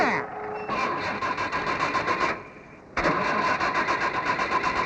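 A new car's engine cranks and catches, then idles and revs as it sets off, with a steady pulsing engine drone that dips briefly and returns; a voice is heard faintly near the start.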